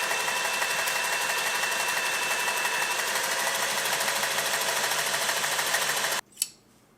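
A Singer 403A sewing machine runs a continuous zigzag stitch, a fast steady whirring hum held for several seconds before it stops abruptly, followed by a single short clack.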